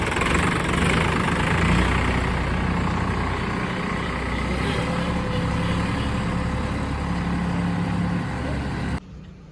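A newly delivered tractor engine idles close by with a steady low rumble and mid-range clatter for about nine seconds, then cuts off abruptly near the end.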